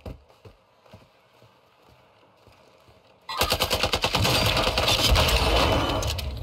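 Gun in the video game Warzone 2 fires sustained automatic bursts, loud and close, after a few seconds of quieter footsteps and movement, with no talk.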